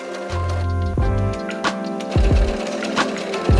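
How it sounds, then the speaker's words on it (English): An overlock machine stitching the fabric edges of a child's ruffled summer dress, running in short bursts of steady mechanical whirring broken by brief pauses and thumps, close and fairly loud with no talking. "Now it is time for overlock stitching."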